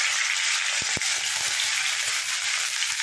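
Chopped onion and capsicum frying in hot oil in a pan, a continuous bright sizzle with a couple of sharp clinks, no talking.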